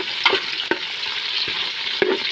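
Food sautéing in a pan sizzles loudly and steadily up close, punctuated by a few sharp utensil scrapes and clacks as it is stirred.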